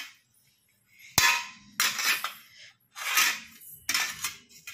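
A child handles kitchen pots and vessels, giving a sharp metallic clang followed by several bursts of scraping and rattling metal, close by and loud, with short quiet gaps between them.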